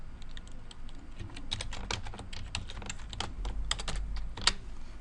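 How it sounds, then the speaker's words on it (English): Password being typed on a computer keyboard, a steady run of quick, light key clicks with uneven rhythm and an occasional sharper tap, close and fairly quiet. "now we'll go ahead and enter our password for this machine"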